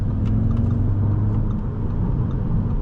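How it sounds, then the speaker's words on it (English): A 2024 Audi S3 Premium Plus accelerates, its engine giving a steady, close low drone with rising harmonic tones that stays loud and continuous through the run. "look at that nice acceleration that this car gives you"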